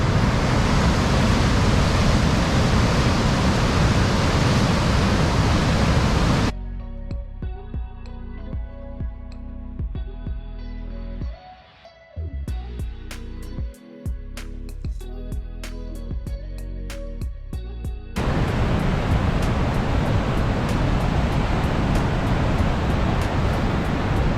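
Steady loud rushing water from the Niagara River rapids near the brink of Niagara Falls fills the scene at the start and end, broad and continuous, with a quieter, cleaner stretch in between.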